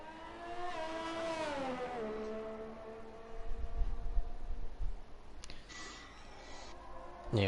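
Ferrari race car heard onboard in a racing game, engine screaming up through the gears and dropping between shifts, fairly close, with louder rumbling and a sharp burst near the end.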